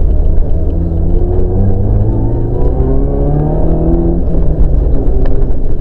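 Rally car engine under throttle in fourth gear, a loud, steady, close-up drone with rising harmonic bands as it keeps accelerating, continuous for several seconds with no talk.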